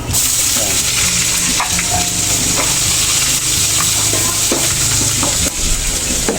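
Garlic sizzles and fries steadily in a pan for a Filipino monggo mung bean dish. A loud, continuous crackle runs throughout, with occasional scrapes and stirs of a utensil against the pan.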